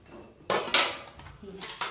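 Metal plates and utensils clank and clatter up close, with several sharp ringing knocks as the dishes are handled.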